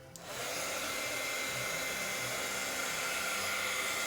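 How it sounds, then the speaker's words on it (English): A heat embossing tool used to dry mixed media artwork gives a steady, loud, breathy blowing roar that kicks on at the start and holds evenly throughout, alone and without talk. "this is actually used for embossing. When you want to emboss, it's a heating tool."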